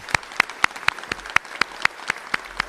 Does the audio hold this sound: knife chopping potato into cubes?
no